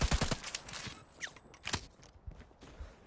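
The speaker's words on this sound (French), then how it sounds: "Alors, les effets, les impacts de balles, incroyable." Bursts of rapid gunfire and sharp bullet impacts from the USS 9 weapon in a shooting video game, a dense flurry at the start followed by scattered single cracks and thuds at moderate volume.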